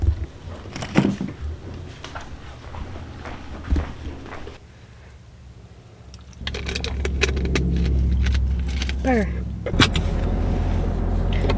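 A car's keys jangle and an electric window hums, then the engine starts and settles into a steady low rumble as the car drives off. The sound is close and fairly loud.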